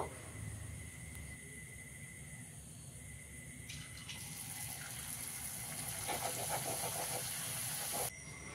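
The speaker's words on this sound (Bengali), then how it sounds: "তো চলো লুচিগুলো আগে ভেজে নিই" Luchi deep-frying in hot oil in a home kitchen produces a steady hissing, bubbling sizzle that swells louder and brighter partway through, close up and continuous with no talking.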